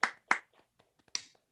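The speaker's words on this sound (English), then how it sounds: "I think that a round of applause is necessary." A few scattered, separate hand claps at a school board of education meeting, sharp and fairly close, sparse rather than a full round of applause, with brief quiet gaps between them.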